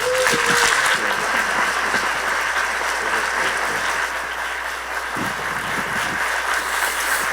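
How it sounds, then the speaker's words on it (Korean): Enthusiastic applause from a lecture audience in Seoul welcoming a visiting professor, a loud, continuous wash of clapping that stays even, with a faint voice near the start. "큰 박수 부탁드립니다"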